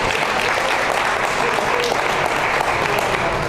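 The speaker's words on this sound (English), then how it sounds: "give yourselves a round of applause for adjusting your schedules to be here with us this afternoon" Sustained audience applause at a school district STEM expo, a steady dense wash of clapping filling the room for several seconds without pause.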